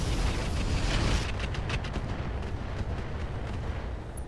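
Weapons fire and impacts from mechs in the Roguetech battle game: a dense, rumbling barrage of booms and crackling hits that rolls on continuously with a few sharper bursts standing out.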